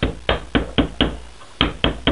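Silver sixpence coin clamped in a vise between scrap aluminium, struck with a series of sharp metallic taps in a steady rhythm with a short pause, close and fairly loud.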